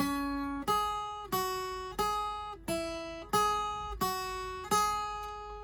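Guitar picking a simple beginner lead exercise, single notes plucked one at a time in a steady, even rhythm, each ringing briefly before the next, clear and close with no talking.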